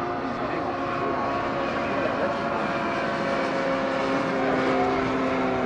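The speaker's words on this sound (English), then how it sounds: "This one is a jet engine." Continuous high-pitched whine of a model jet aircraft's small jet engine in flight, steady and fairly loud, with a constant drone and no voices.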